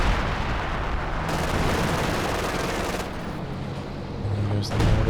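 Heavy LFH howitzer shells landing in Company of Heroes 2 amid a dense, loud barrage of battlefield gunfire and explosions, continuous and roaring throughout, with a voice faintly mixed in.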